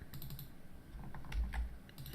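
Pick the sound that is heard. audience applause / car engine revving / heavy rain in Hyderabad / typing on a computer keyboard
typing on a computer keyboard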